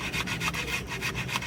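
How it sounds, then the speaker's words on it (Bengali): An onion is grated by hand for Bengali chital fish muitha, a steady run of quick, rhythmic rasping strokes heard up close without speech. "পেঁয়াজটা একটু ঘষে দেবো না, পেঁয়াজ আমি ছালাইয়া লইছি"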